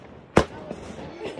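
A single sharp Diwali firecracker bang bursts close by, followed by fainter pops and crackles, with people talking in the background.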